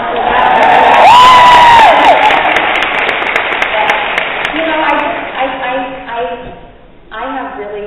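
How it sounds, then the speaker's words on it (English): A conference audience claps, cheers and whoops loudly, a high whistle or shout rising over the crowd noise early on, then the applause thins and fades toward the end. "I think we should hear a bigger round of applause for that."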